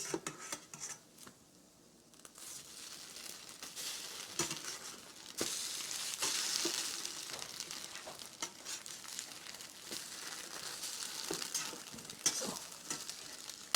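Small pieces of French toast frying in a skillet, a faint close sizzle that swells after a quieter start, dotted with light clinks and taps of a utensil.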